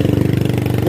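A motorcycle engine idles close by, a loud steady low putter with an even rapid pulse throughout the short stretch.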